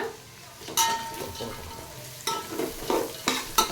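Spices, masala or prawns tossed into hot oil while an egg and prawn masala sambar is cooked, giving a steady close sizzle with scraping stirs and a few pan clinks.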